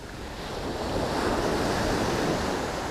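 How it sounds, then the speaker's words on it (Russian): Strong sea waves surge onto Cleopatra Beach in Alanya, Turkey, a steady loud wash of surf with gusty wind buffeting the microphone and no voices. "Ну и волны, видите, какие волны."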